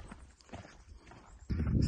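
Horse hooves clip-clop at a slow walk on a mountain visitor path, with soft, spaced steps that grow louder and rougher near the end.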